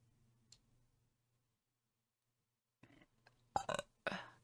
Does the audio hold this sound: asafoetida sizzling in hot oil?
no